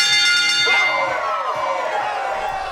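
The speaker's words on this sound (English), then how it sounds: "This bell symbolizes a laugh track, by the way." A single bright bell ding rings out as a stand-in for a sitcom laugh track, loud and clear, then fades slowly with a long ringing tail.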